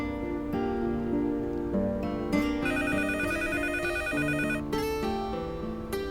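A phone ringtone plays a bright, repeating electronic melody, steady and clear throughout with no voices.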